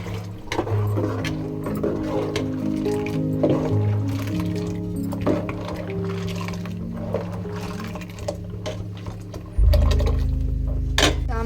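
Water is poured into a pot of chicken sambar, with a soft liquid splash and squishing that swells to a louder, steady pour near the end. The background holds faint tonal hum and clatter.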